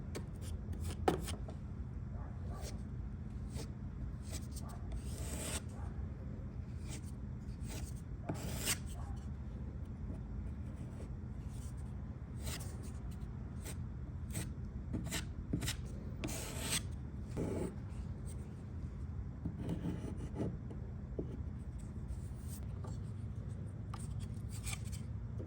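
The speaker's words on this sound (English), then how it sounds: "I'm going to fill it in with some wood filler just to make it nice and smooth." Wood filler being worked into damaged spots on a wooden campaign dresser, a steady soft rubbing and scraping with brief sharper rasps, close and continuous with no talk.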